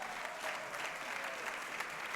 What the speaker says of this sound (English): Can we give a round of applause for homegrown teachers?